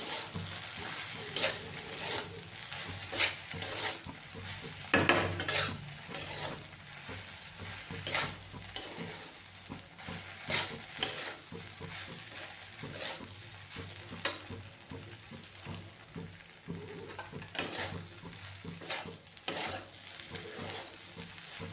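Okra stir-fried in a pan with salt and crushed peanut powder, a continuous sizzle with frequent scraping, clattering stirs of a spatula against the pan.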